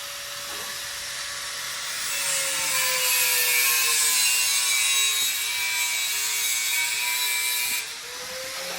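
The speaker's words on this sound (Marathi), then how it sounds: "तर इथं आता काम चालू झालंय ग्राइंडरचं" An angle grinder runs loudly and continuously at a work site, a harsh high whine over hiss that swells for several seconds, then drops back near the end.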